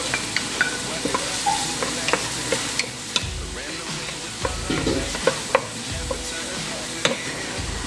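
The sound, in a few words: onion and tomato sizzling in a pan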